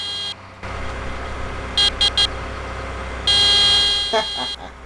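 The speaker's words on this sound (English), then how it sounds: "How do I beep again?" Short truck horn toots sound three times in quick succession in Farming Simulator 17, then a longer sustained honk, over a steady engine rumble.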